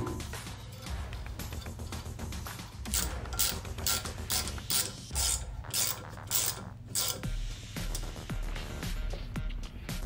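Metal threads being cut on a hydraulic shop press pin with a tap and die, a steady run of close ratcheting, grinding clicks and scraping strokes with no talking.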